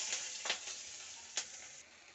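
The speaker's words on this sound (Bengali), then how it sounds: "এবার এই তেলেই আমি একটু কালো জিরে ফোড়ন দিয়ে দেবো অল্প করে, আর আমি দুটো কাঁচা লঙ্কা ছিঁড়ে রেখেছি" Nigella seeds and torn green chilies sizzle and crackle in hot oil, a steady close frying hiss with a few sharp pops, no voices.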